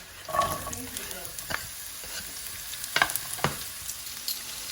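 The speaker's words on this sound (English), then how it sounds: "as they start to pop and sizzle, I am going to add the onions." Onions hit hot oil already sizzling with dried red chillies and fresh curry leaves for sambhar, giving a soft crackling fry with a few sharp pops and stirring scrapes, close and fairly quiet, with no talk.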